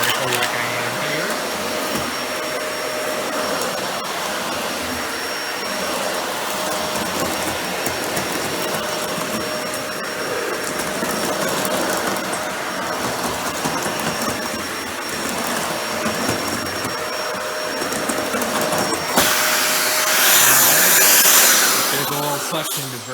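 A Dyson Ball Animal 2 upright vacuum cleaner runs steadily, picking up large debris with a continuous loud whooshing hum that swells briefly louder near the end.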